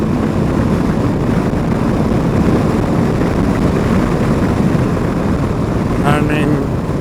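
A 2023 Harley-Davidson CVO motorcycle with carbon fiber wheels rolls on the throttle in sixth gear, a loud, steady engine roar heavily mixed with wind rush, with a brief voice near the end.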